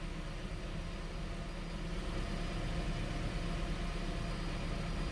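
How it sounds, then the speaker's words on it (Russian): A Toyota Prius (30 generation) idles on its engine, a steady low rumble that holds even and continuous throughout, close by with no talking. "Все, сейчас она будет работать на двигателе."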